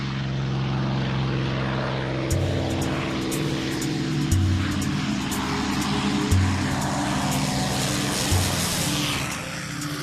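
A World War II P-51 Mustang fighter's piston engine drones in a steady, throaty growl with rhythmic pulsing swells, heard alone with no talk.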